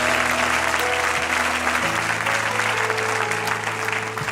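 Loud, sustained applause from a church congregation during a sermon, a steady wash of many clapping hands with faint organ-like tones and murmuring underneath.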